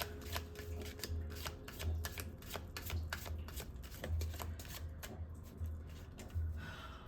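Tarot cards being shuffled in a steady run of quick riffling bursts, close and fairly quiet, with no talking over them.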